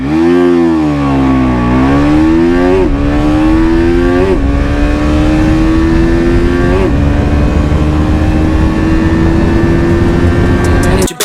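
A 2022 KTM RC 200 motorcycle pulls hard from a complete standstill, its engine note rising through several quick gear changes, each upshift briefly dropping the pitch before climbing again, loud and close throughout.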